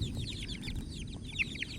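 Chickens cluck and chatter steadily in a close, busy flock on a farm, with a few brighter squawks rising over the low rumble of the coop.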